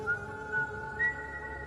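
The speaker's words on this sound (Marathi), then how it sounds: "जो नेहमी शीळ घालतो." A person whistles a steady tune of sustained, slightly rising tones with small swells, close and clear over quiet room background.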